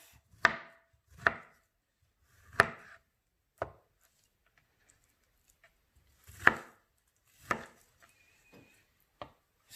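A knife chops guava for jam on a cutting board, about eight separate sharp thuds spaced unevenly, close and clear against near silence.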